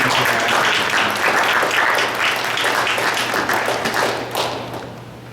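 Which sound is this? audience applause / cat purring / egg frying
audience applause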